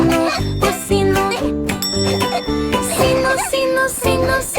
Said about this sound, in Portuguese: O coelhinho travesso escondeu o sino